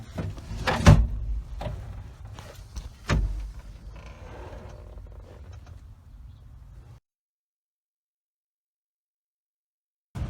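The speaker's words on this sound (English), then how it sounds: "Let me slide the seat up and you can look behind there." An excavator seat sliding forward, a close mechanical rattle and clunk followed by a few seconds of grinding, sliding noise before it stops, then silence and a short knock at the end.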